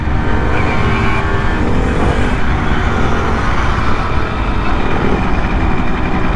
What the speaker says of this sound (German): Der macht erstmal schön Wheelie.